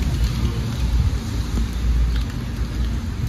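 Steady rain falls on a New York street, a dense continuous hiss with low rumbling traffic underneath, no voices.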